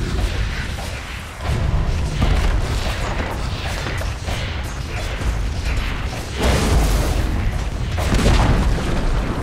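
Heavy booms and mechanical thuds pound steadily as a tower on the Dire's bottom lane comes under attack in Dota 2, loud and continuous with repeated impacts and no talk.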